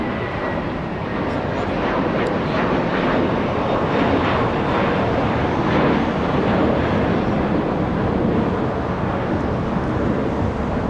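Japan Airlines Boeing 787 Dreamliner pushing back at Los Angeles International Airport, a steady broadband jet engine roar with airport ambience, constant and fairly loud throughout without pause.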